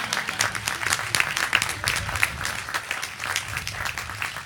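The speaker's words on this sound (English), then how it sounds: "You may applause." Audience applause at a celebration marking the start of home construction at a shipyard, a steady dense clapping from a crowd that carries on throughout without a break.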